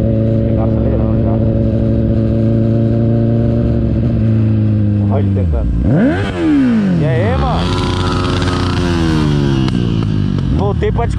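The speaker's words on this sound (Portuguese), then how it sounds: "Ele tá acelerando já." A Honda Hornet motorcycle idles with a steady low drone, then revs hard in rising and falling sweeps, the engine loud and close as people talk over it.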